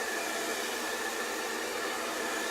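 A hair dryer blows hot air at the hair roots, a steady close whooshing roar with a faint motor whine, constant and alone with no speech.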